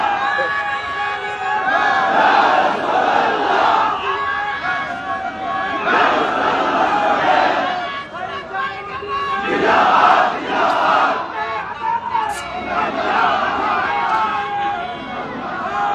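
A large crowd at an outdoor Tafsir Quran Mahfil gathering in Chittagong's Laldighi ground chants the Takbir slogan in loud, repeated collective bursts, roughly every four seconds, with a murmur of voices between the shouts.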